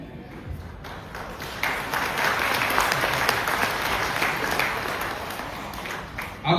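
Sustained audience applause at an eighth-anniversary celebration in India, a dense wash of many hands clapping that swells after the opening moments and holds steady, with a few louder nearby claps at the end.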